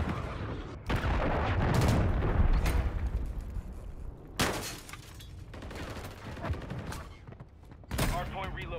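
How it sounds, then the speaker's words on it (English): A cruise missile strike in Call of Duty brings a dense barrage of heavy blasts and rattling gunfire, with several sharp booming bursts rising out of continuous loud battle noise. "Hostile launched a cruise missile."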